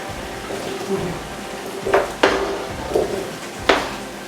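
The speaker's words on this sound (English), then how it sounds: "And I put mine in and it sizzles wildly." Soft, steady sizzling of lomo saltado frying in a pan, with a few sharp clinks and scrapes of a utensil against the pan.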